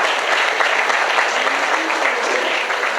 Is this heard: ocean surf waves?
no